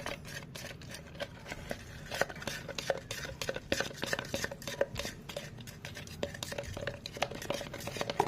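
Paint thinned with thinner for repainting a 2014 Megapro FI motorcycle frame is stirred in a container, giving a rapid run of small clicking, scraping taps that continues steadily throughout at a moderate level.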